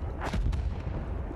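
Gunfire in the Battlefield 1 video game: a short, loud, booming artillery-like blast with a low rumbling tail that fills the moment.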